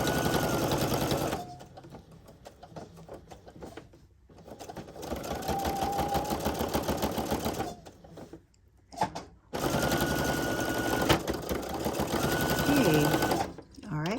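A sewing machine stitches a quilt along its edge, running in several bursts of steady rapid chatter separated by short pauses, close and loud.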